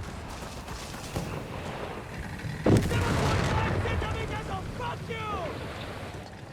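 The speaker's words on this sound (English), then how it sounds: "First mortar ready, second mortar ready. Calyon there turning to US mortar prowess to turn the tide for democracy." US mortar fire in the real-time strategy video game Company of Heroes 3, a desert battle between Afrika Korps and US Forces: a single sharp boom with a rolling tail amid distant battle noise, under continuous commentary.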